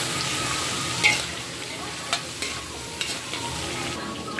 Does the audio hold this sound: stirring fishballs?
yes